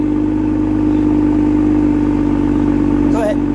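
A 2021 Toyota Supra GR A91 Edition idles in sport mode with a steady, close, low engine drone holding an even pitch throughout, broken by a brief higher chirp near the end.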